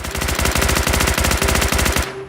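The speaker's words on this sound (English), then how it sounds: "But it just sounds like a gun, right?" Rapid sustained automatic gunfire from a makeshift SMG in Fallout 4, loud and close, a steady burst of rounds for about two seconds before cutting off.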